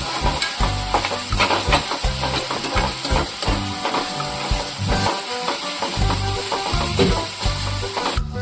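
Onion and garlic frying on full heat in a pan for a prawn masala gravy: a continuous loud sizzle with frequent clattering scrapes of a spoon stirring, close up and without talk.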